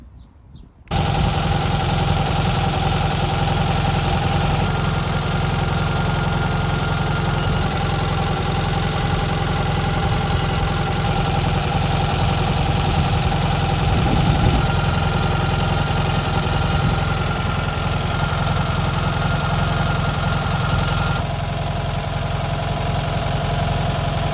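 A classic Fiat 500's small engine, already very hot, idles steadily and loudly at close range, with a constant low rumble and even mechanical chatter that barely changes.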